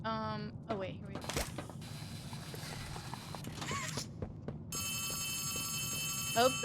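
Telephone ringing in the video game Poppy Playtime Chapter 4, a steady electronic ring starting midway and continuing under game creaks, clanks and mechanical ambience.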